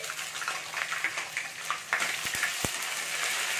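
Ginger paste frying in a pan for a vegetarian pumpkin dish, a steady hissing sizzle with a few soft clinks of a utensil, close and continuous.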